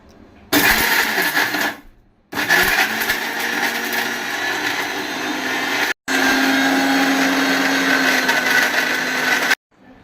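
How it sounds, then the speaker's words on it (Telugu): A mixer grinder whirs loudly in three steady bursts grinding coconut chutney with rock salt, stopping briefly between each run, with a harsh, even motor roar and no talking. "ఇప్పుడు మిక్సీ పడతాను"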